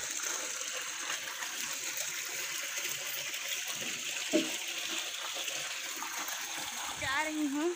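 Water pouring from a household tank into containers for drinking, a steady rushing gush that runs throughout, with a bump midway and a louder splash near the end, while someone talks over it.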